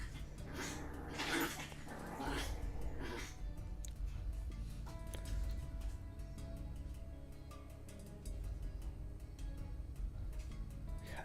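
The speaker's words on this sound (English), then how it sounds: "what's going on with the dogs? I can hear him." Dogs whimper and growl in a restless, uneven stretch, with whiny high cries early on and low grumbling underneath, fairly close and continuous.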